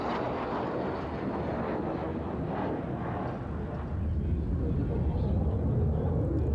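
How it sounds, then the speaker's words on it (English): A Hawker Hunter jet at the RIAT air show at RAF Fairford roars overhead, a loud, broad sustained rumble that swells toward the end, with a commentator talking over it. "is the Hawker Hunter. This thing has 6 times the power of the Fouga Magister."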